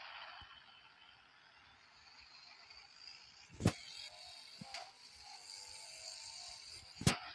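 A car in a Roblox game runs with a low steady engine hum, a few sharp clicks and knocks cutting through at intervals, fairly faint overall.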